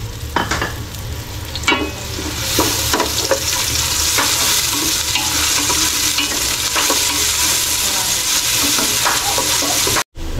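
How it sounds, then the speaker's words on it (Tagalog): Onion and tomato sautéing in hot oil, a loud, continuous sizzle up close with scattered scraping and clacking from a stirring utensil, without speech. "gigisa ko muna yung sibuyas tsaka kamatis"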